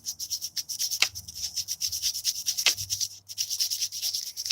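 A wooden ring spins on a lathe at about 4,000 RPM while being shaped, giving a close, continuous rhythmic scraping and rubbing with two brief heavier scuffs.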